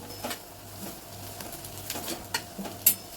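Fried onion being stirred in a pan with coriander powder and homemade masala, giving soft scraping strokes and a few light utensil clinks over a faint background sizzle, with no talking.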